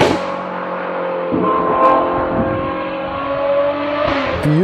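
Ferrari 812 GTS V12 with a Novitec exhaust idling loudly nearby, then blipping its revs with rising and falling engine tone, heard alone without talk.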